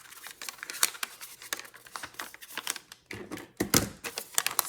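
Scissors snipping the corners off a vellum envelope, a series of crisp cuts and papery crinkles close by with no talking.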